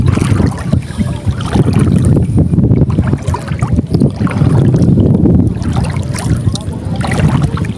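Strong wind roars across a small fishing boat at sea, gusting steadily with heavy low rumble and buffeting on the microphone, mixed with water sloshing against the hull, loud and continuous throughout with a faint voice in places.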